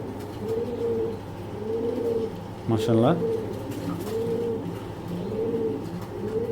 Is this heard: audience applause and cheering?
no